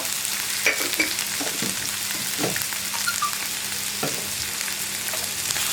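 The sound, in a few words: onions and tomatoes sautéing with salt in a pan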